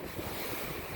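Small rollers washing in on the lake at Saugatuck under a wind of about 5 knots, a steady broad rush of water and wind noise, close and continuous, with no voices.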